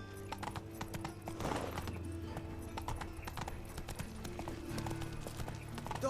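Horse hooves clip-clop steadily in The Witcher 3 game, a continuous rhythmic trot under a constant low musical drone, with a brief whinny-like swell early on.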